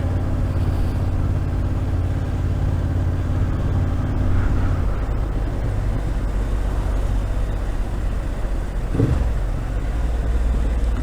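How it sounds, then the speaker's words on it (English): A Honda CB750 Hornet motorcycle is ridden at low speed, about 20 mph, with a steady, throaty exhaust drone and a brief rise in revs near the end, mixed with wind rush at the microphone. "God, that exhaust is naughty."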